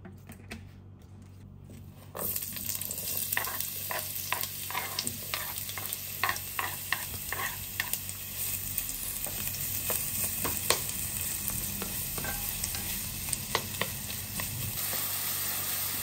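Onion frying in a little oil in a hot frying pan, a sudden burst of loud sizzling that continues steadily with crackles and stirring scrapes, no talk.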